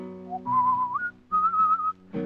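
A person whistles a slow melodic tune, a few sustained clear notes with short breaks, near and moderately loud over a soft backing tone.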